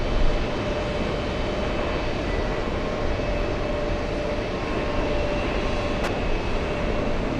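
A jet airplane at JFK airport, heard as a continuous broad engine roar with a steady hum, loud and unbroken, plus one brief sharp click near the end.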